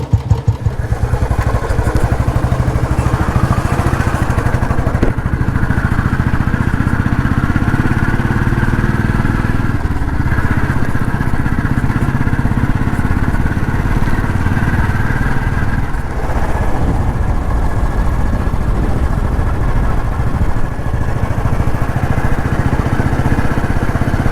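Motorcycle engine running steadily at a low, even drone, starting off on a mountain road ride through Uttarakhand between Gangotri and Agastmuni; continuous and fairly loud with wind rumble, no talking.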